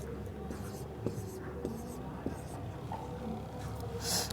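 Marker or chalk scrapes across a classroom board as round circles are drawn during a chemistry lesson, a few short repeated strokes heard near and fairly quiet under a teacher's ongoing speech.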